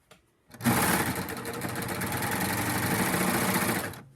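A sewing machine stitches binding onto a quilt at high speed, starting with a sudden jolt and then running as one loud, fast, even whir for several seconds before stopping.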